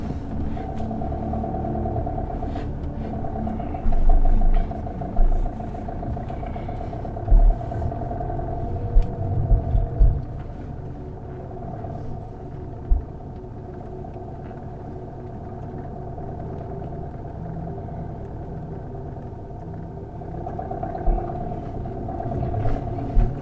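Maruti Swift car crawling over a rough, broken road at Zojila Pass near a construction zone, a steady low engine rumble with occasional jolts and thumps from the uneven surface, no talk.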